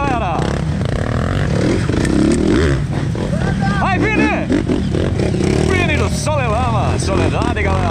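A trail motorcycle revs and accelerates repeatedly during a dirt trail ride event in Barros Cassal, Brazil, with rising engine whines among other bikes, while people shout and talk over it.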